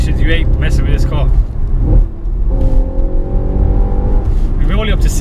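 An Audi RS4 pulling hard on a wet road, a brief lull followed by a rising, sustained engine drone as revs climb, heard from inside the cabin, with voices talking over the opening and closing moments.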